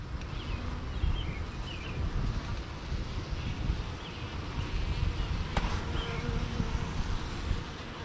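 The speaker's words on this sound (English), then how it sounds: "Now we're getting lots of fanning going on." A honeybee swarm fanning at the entrance of a new hive box outdoors, a steady dense buzzing drone of many bees close by, with light wind rustle underneath and no talking.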